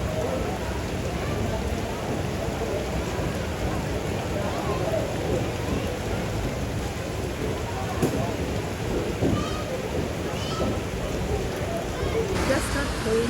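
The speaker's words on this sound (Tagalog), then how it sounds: "Just got home and ang lakas ng ulan, buti na lang hindi ko naabutan." Heavy rain pours steadily at a home in Siargao, a dense continuous hiss of rainfall with faint distant rumbles that could be thunder, and voices faintly audible under the downpour.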